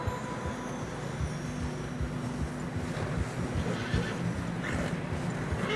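Horses neighing and snorting as they struggle through deep snow in the video game Red Dead Redemption 2, against a steady rumbling background, with muffled hoof thuds repeating throughout; no talking.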